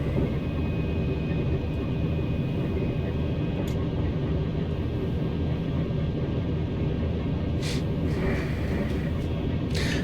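A TGV Duplex high-speed train in the Train Sim World game runs along a high-speed line, giving a loud, steady rumbling roar with a couple of brief higher hisses near the end.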